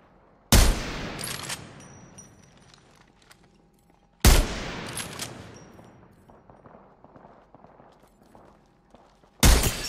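Gunfire in a multiplayer shooter match: three loud separate bursts of rapid shots, each trailing off into a ringing echo tail. Lighter clatter and a few scattered shots fill the gaps between them.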